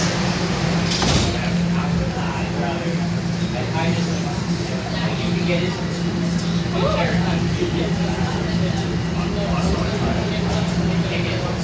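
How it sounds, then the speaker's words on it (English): Toronto subway train doors sliding shut inside a busy car, a brief clatter over loud, continuous rail rumble, with recorded announcements and people speaking throughout. "The doors are closing."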